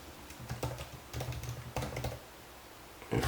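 Quick bursts of typing on a computer keyboard while setting up a Next.js project, with clustered key clicks separated by brief pauses, close and clear, with no voices.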